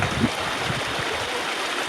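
Water flows steadily at Puliyancholai, a broad continuous rushing wash heard close with no voices.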